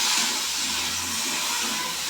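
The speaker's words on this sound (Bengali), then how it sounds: "এবার ভাজতে থাকবো।" Brahmi greens frying with turmeric in hot oil, a steady broadband sizzle and hiss that holds evenly close by throughout, with no talking.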